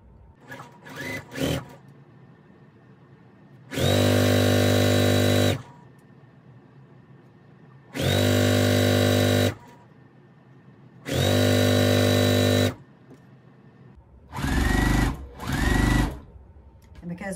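A sewing machine chain-pieces fabric strips in loud, steady bursts of rapid stitching, four longer runs separated by pauses and then two short runs, with a person talking quietly in the gaps.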